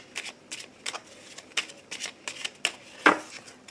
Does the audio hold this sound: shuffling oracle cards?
yes